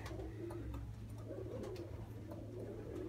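Pigeons cooing, a few soft low coos repeating over a steady background hum, faint and somewhat distant, with no talking.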